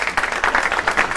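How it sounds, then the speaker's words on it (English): An audience at a computer vision talk claps for the first speaker, with a steady patter of hands rising and falling in quick pulses across the whole moment. "let's give a round of applause to our first speaker"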